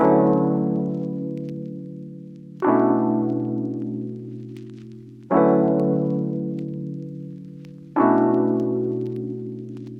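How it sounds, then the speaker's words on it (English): Four sustained keyboard chords play one after another at an even pace, each struck brightly and then slowly decaying before the next begins. "you lay down some chords on a nice key sound and it sounds like this."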